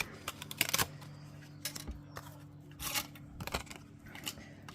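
Scissors cutting through two pieces of paper at once, a series of crisp snips and rustling paper scrapes in irregular bursts, close and fairly quiet over a low hum.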